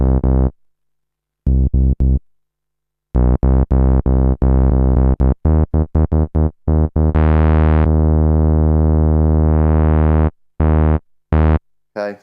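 Minimoog Model D synthesizer with its filter opened and sweeping higher, a series of bright, buzzy sustained notes, some short and staccato, some held long, with brief silent gaps between, loud and alone.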